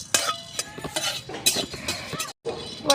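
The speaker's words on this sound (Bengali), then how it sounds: "এটা আমি শুকনো কড়াইয়ে ভেজে নেব।" Whole garam masala (cardamom, cinnamon, cloves and black peppercorns) is dry-roasted in an empty kadai, with close, irregular scraping and clinking of a spatula against the metal, a brief silent gap, and no talking.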